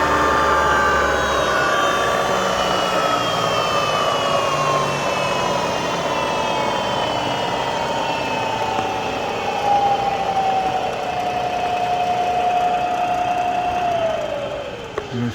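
Bridgeport 2HP variable-speed vertical milling machine spindle running at its 4200 rpm top speed: a loud, steady whine with rising and falling tonal pitches over a mechanical hum, winding down at the end.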